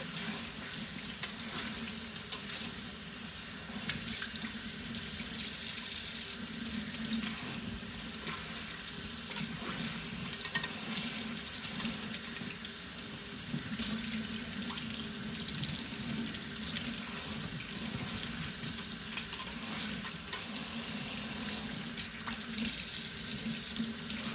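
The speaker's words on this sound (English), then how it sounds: "I use warm water, not hot water, not cold water." Warm tap water runs steadily into a kitchen sink while spaghetti squash seeds are rinsed, an even hiss and splash continuing without a break at moderate level.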